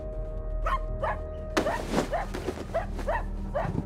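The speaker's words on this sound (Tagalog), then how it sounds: "At ka ba tahol ng tahol dyan?" A dog barking repeatedly at steady intervals, sharp bark-like calls several in a row with one louder burst midway, over a low background hum.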